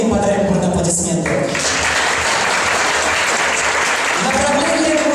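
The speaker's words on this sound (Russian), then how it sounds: "мы им подарим бурные аплодисменты" Loud, dense applause from an audience at a Komi Republic school patent competition award ceremony, sustained throughout, with a voice heard briefly at the start and again near the end.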